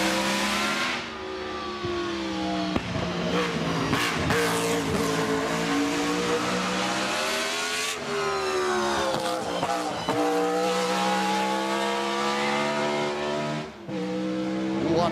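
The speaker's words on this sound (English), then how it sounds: "because this is the V16 Supercharged" A supercharged BRM V16 racing car screams past at the Goodwood Festival of Speed, a loud, high-pitched engine note rising and falling through gear changes and revs over about fifteen seconds, with crowd ambience underneath.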